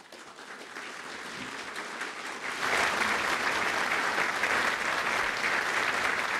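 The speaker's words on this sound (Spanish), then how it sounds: "El aplauso con el que los tailandeses reciben las palabras del Papa" Thai dignitaries and officials applaud Pope Francis's speech at a meeting with authorities in Bangkok, a broad crowd ovation that swells louder partway through and holds steady.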